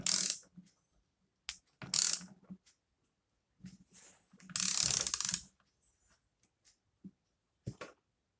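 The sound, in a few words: screwing a screw on AM6 moped engine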